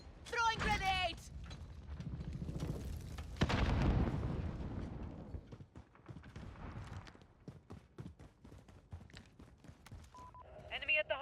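Grenade blasts and gunfire ring out in Modern Warfare (2019), with a loud deep boom near the start followed by scattered shots and mechanical clatter, while in-game voices call out over the fighting.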